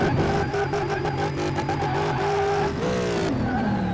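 A high-revving 1100 HP drift kart engine in Car Mechanic Simulator 2018 drones loud and steady, its pitch sliding down and back as the throttle is worked, with no talking over it.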